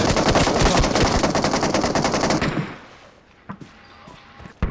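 Automatic gunfire in the mobile battle royale game PUBG Mobile, a loud rapid burst of shots for about two and a half seconds, followed by a couple of isolated distant-sounding shots.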